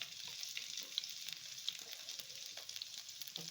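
Two large sliced onions frying in a pan for chicken curry, giving a continuous soft sizzle with faint crackles and a couple of sharp pops.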